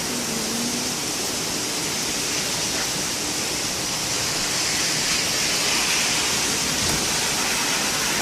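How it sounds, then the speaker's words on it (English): Steady rain falls outside on a rainy day in Maine, a dense, even hiss filling the scene from start to finish with no break and no voices. "It's raining day. It's rainy day."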